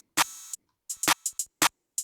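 Rimshot sample in an ambient beat: sharp, dry clicks land in a sparse swung pattern alongside a longer sustained hat, each hit short and close, with nothing else behind them.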